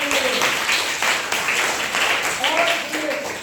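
Students in a classroom give steady, lively applause that fills the room, with a teacher's voice faintly under it.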